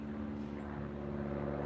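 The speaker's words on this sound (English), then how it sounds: "I can hear a plane." A propeller airplane drones steadily overhead, a constant low hum heard in a sunny Boston urban garden with no talking.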